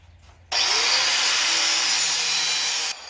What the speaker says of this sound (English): Cut these parking brake cables out the way